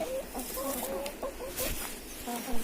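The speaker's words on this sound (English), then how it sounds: "I'm letting the chickens out to roam for the day." Six chickens on an allotment cluck in short, repeated bursts close by, with a rustling background.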